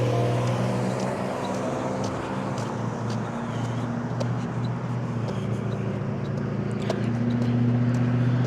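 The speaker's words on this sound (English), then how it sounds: "Truck just passed." A truck rolls past outdoors, a steady low engine rumble and tyre noise that swells and lingers over several seconds, with wind in the background.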